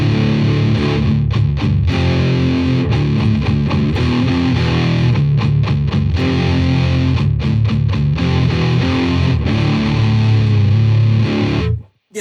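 Electric guitar played through a Marshall DSL pedal set for heavy, fuzzy, doomy distortion, with thick sustained chords and low riffs ringing loud and continuous until an abrupt cutoff at the end.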